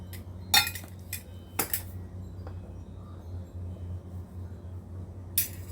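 Measuring cups knocking against a clean bowl as cornbread ingredients are measured out, a handful of bright metallic clinks spaced apart over quiet room tone.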